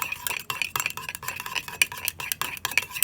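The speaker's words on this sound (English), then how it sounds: "I'm going to give this a little stir" A spoon stirs a flax egg mixture in a bowl, sending quick rhythmic scraping and clinking strokes nearby, brisk and repeated for several seconds.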